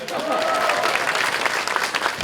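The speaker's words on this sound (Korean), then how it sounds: "여러분 박수 보내주십시오" An audience at a groundbreaking ceremony for a food robotics research centre breaks into sustained applause, dense clapping with a voice speaking over it at the start.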